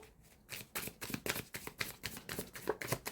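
Tarot cards are shuffled close up in quick, repeated riffles and slaps, a soft, crisp rhythmic patter with no talk over it.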